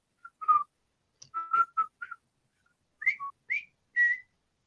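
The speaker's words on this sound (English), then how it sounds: "it's the whistling though." A person whistles the Colonel Bogey March in short melodic phrases, the clear tones rising and falling with brief pauses between, alone with no talk.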